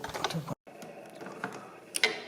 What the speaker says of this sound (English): we torque these to 6 Newton meters